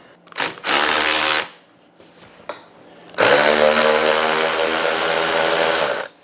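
A power driver with a 5mm Allen bit backs out the trunk plate bolts on a Suzuki V-Strom DL1000, in a short loud whir, a quiet gap with small clicks, then a longer sustained buzzing run.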